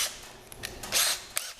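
A power drill fitted with a 7/64 drill bit, giving a brief whirring burst with a couple of short revving pulses, close by and alone, over little more than a second.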